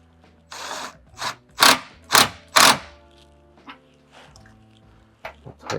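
Ratchet wrench tightening 18 mm bolts on a Jeep's Rough Country electric running boards: a few loud, close bursts of clicking that come in a quick series, then fainter, scattered clicks.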